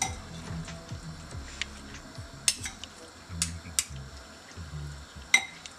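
Eggs are gently mixed into a beetroot and potato salad, giving soft scraping and stirring with a few light clinks of a utensil against the bowl, close and quiet.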